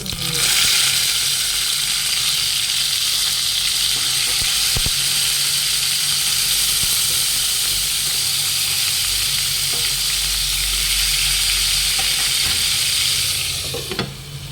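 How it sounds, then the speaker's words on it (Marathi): Mustard seeds, cumin and brinjal sizzle and crackle loudly in hot oil in a pan, a dense continuous frying hiss lasting throughout with no talk. "आता त्याच्यात मोहरी टाकूया मोहरी छान तडतडू द्यायची नंतर जिरं त्याच्यात वांगी"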